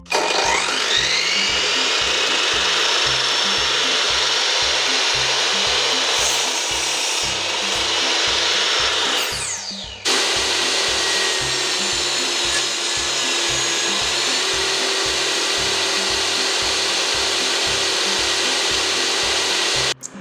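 Pallet wood pieces being cut with a power saw for a homemade wooden toy, a loud, close, continuous whine over a fast rhythmic low thumping, briefly stopping and restarting partway through.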